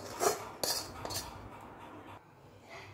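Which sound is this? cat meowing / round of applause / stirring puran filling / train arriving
stirring puran filling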